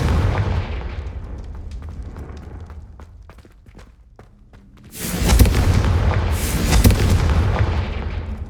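A Confringo fire spell explodes in the Hogwarts Legacy video game, a loud broadband blast that erupts midway and rumbles on, after a stretch of quieter thuds and clicking steps.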